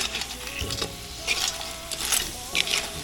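Curry ingredients frying in a pot, a steady sizzle and crackle with scraping stirs and metallic clinks, close, with occasional brief talk.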